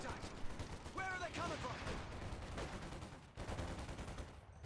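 Machine gun fire in Company of Heroes 2, heard as rapid bursts of gunshots in an ongoing battle, fairly quiet and sitting among other game effects.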